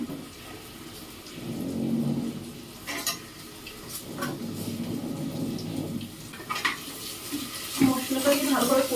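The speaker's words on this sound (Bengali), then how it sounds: "এবার মাটন কষার এই বাটা মশলাটা দিয়ে দিচ্ছি তেলের মধ্যে" Ground masala paste for mutton, with Kashmiri red chilli powder, hitting hot oil in a pan, giving a steady low sizzle with scraping and stirring clatter from utensils against the pot.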